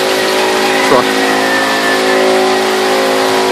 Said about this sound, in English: This is my brother's rip-up car, truck.